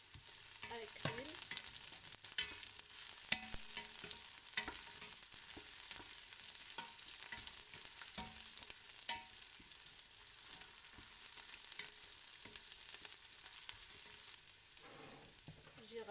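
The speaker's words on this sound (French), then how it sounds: "Alors maintenant j'y rajoute les carottes. Et on laisse bien revenir avec l'huile." Carrots sauté in hot oil in a pan, giving a steady, close sizzle with frequent scraping and stirring clicks throughout and no talking.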